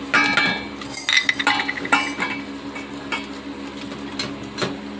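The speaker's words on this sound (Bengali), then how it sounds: "পকোড়া ভাজার জন্য বেসনটা ফাটিয়ে নেবো" Gram flour batter with salt, turmeric and pepper being beaten in a bowl for pakoras, with brisk clinking strokes of a utensil against the bowl and wet stirring, fairly close and steady with short pauses.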